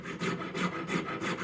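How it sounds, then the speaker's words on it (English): Round needle file or burr working the joints of a metal ring for a butterfly setting, five even rasping strokes in a steady back-and-forth rhythm, close and alone. "You can use a round needle file, or you can use a round burr."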